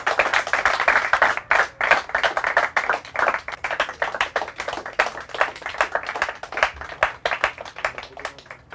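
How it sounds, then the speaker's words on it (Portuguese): A small audience claps for the leading team at a Portuguese quiz show, a steady run of close, distinct hand claps of moderate loudness lasting throughout, with no talk over it. "Palmas para eles."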